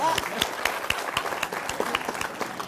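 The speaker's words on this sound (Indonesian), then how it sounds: "Tepuk tangan dulu" A small group claps briefly in an Indonesian gathering, with distinct individual claps in an uneven rhythm, moderately close, alongside faint voices.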